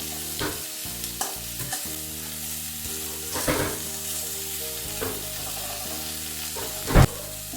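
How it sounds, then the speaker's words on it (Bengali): Vegetables with salt and turmeric fry in a pan, a loud steady sizzle broken by repeated spatula scrapes and clanks, with a sharp clatter near the end and no talking. "সামান্য একটু হলুদ গুঁড়ো দিয়ে দিলাম দিয়ে এটা আমি ভেজে নিচ্ছি"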